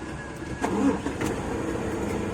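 A CAT 50 forklift engine cranks and catches, a brief surge followed by a steady mid-pitched idle, heard up close.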